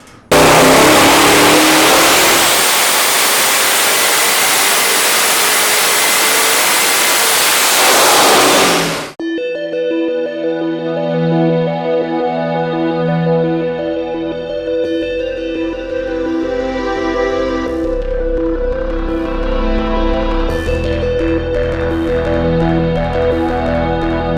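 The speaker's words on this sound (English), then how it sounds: "Today what we're going to be looking at is a 441 Hot Rod Series small block Chevy." A turbocharged 441-cubic-inch (7.2 L) small-block Chevy V8 roars loudly at high revs for several seconds, then drops to a rumbling, throbbing idle with occasional blips.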